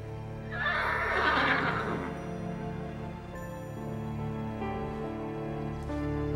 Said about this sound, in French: Oh, mon petit Comanche, tu es le plus beau de tous les chevaux de la planète.